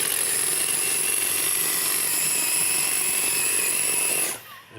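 A blender blitzing a chicken mixture whirs loudly and steadily for about four seconds, a high motorized whine, then cuts off abruptly near the end.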